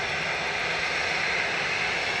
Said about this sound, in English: Heading off to Malta with flight 2273, A320 Classic.